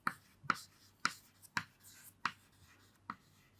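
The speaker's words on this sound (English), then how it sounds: "I am writing it here" Chalk or marker strokes on a classroom board in a chemistry lesson, a series of short, crisp taps and scrapes spaced about half a second apart, fairly close and clear with no talking.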